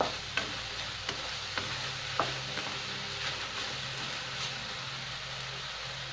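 Textured vegetable protein with asparagus stir-fried in a pan sizzles steadily, while a spatula scrapes and taps the pan in a loose rhythm of sharp clicks over the continuous frying hiss.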